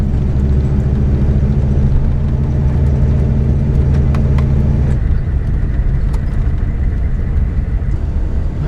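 A 20-plus-year-old vehicle drives across open Oregon country, its engine rumbling loud and steady up close with road and wind noise. The drone drops slightly partway through.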